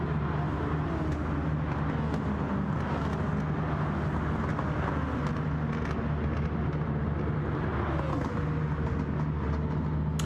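Race cars in the Gran Turismo 7 video game roar past on the Catalunya circuit during an online daily race, producing a continuous layered engine drone with swelling and fading passes, loud and unbroken for about ten seconds.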